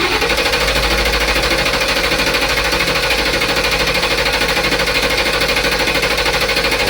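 Starter cranking a 2012 Ford van engine during a no-start diagnosis, a loud, steady rapid chugging rhythm that runs unbroken with no voices.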